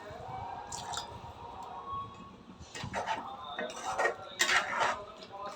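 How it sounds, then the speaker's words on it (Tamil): Wet, squelchy stirring of a ground paste for thorny eggplant gravy, a utensil clinking against a metal pot, some soft splashing as water goes in, close and busy. "அதை கலக்கி நான் தண்ணி சேர்த்துக்கிறேன்"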